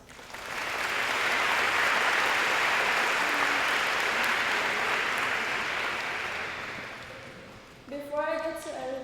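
Audience applause at a high school scholarship signing event fills the room for about seven seconds as a broad, dense clapping wash, then fades out as a voice begins speaking.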